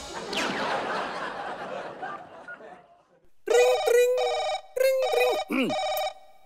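A telephone bell rings on a Hindi-language celebrity game show, sounding several loud, evenly spaced electronic trill bursts after a stretch of noisy crowd chatter and laughter.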